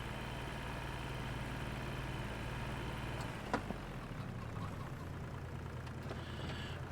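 Farm tractor engine idling at close range, a steady low rumbling drone with a brief clank midway, after which the tone drops slightly and settles.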